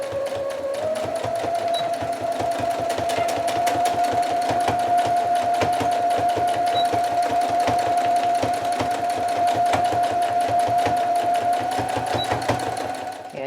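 A sewing machine stitches pink fabric and a piece of old doily, a rapid steady mechanical chatter with a motor whine, close and continuous for the whole stretch.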